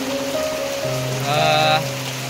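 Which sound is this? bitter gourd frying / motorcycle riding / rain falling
rain falling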